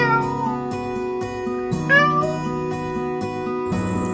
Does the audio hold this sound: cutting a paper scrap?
no